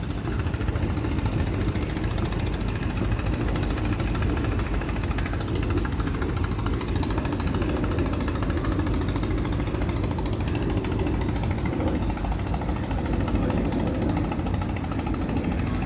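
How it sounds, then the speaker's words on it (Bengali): A trawler boat's engine chugs loudly and steadily on the river near Fatullah and Narayanganj, an unbroken mechanical rattle lasting the whole stretch with no talk over it. "ট্রলারে করে মানুষ নদীর ওই পার থেকে ফতুল্লা থেকে নারায়ণগঞ্জ, ফতুল্লা থেকে হাসনাবাদ আসতেছে"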